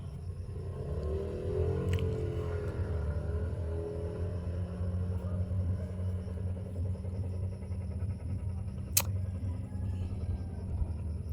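Motor vehicles, likely motorcycles, rumble past on a busy street, a steady low engine drone filling the scene with a brief sharp passing swell near the end.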